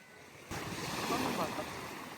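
Ocean surf washing around a small traditional fishing boat, a sudden surge of wave noise with wind rushing across the microphone, building and then easing over a couple of seconds.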